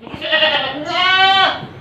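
Farm goats bleat twice in close succession, loud and nearby. Each call is a wavering, nasal cry, and the second is longer and higher than the first.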